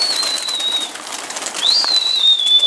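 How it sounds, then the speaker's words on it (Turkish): Pigeons out of their coop, with soft calls and a thin high whistle-like tone rising and falling, fairly close and clear, no talk. "kuşları açtı"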